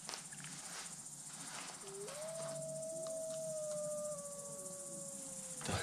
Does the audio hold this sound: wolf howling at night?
yes